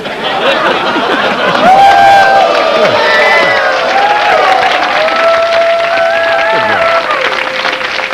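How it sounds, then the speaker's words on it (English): A television studio audience at a late-night talk show cheers and claps, a loud, sustained wash of applause and whoops, with excited voices calling out throughout. "the guy on the end's clapping now"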